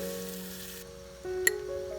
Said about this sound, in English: let's add 20 grams of hot oil into the bowl and mix quickly